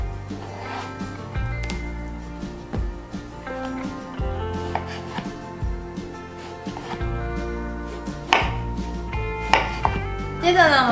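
A knife chops peeled loofah into thick pieces about two centimetres wide on a cutting board, striking in a steady run of close, sharp thuds with no talking.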